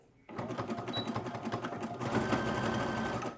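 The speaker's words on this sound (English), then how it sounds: "I'm going to show you how to stretch the elastic while you're sewing" A sewing machine starts up and runs steadily at close range, its rapid rhythmic needle clatter speeding up slightly, while elastic is stretched as it is sewn.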